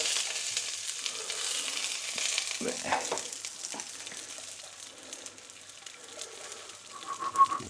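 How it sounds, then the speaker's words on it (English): Eggs fry slowly in bacon fat in a home kitchen pan, a steady close crackling sizzle with a few louder spits and pops, no talking. "we'll put the eggs in with all the lovely fats and that"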